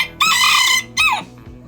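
Chickens in a scratch pen, including lavender birds, give two loud nearby squawking calls, the first long and drawn out, the second shorter, with faint clucks in between.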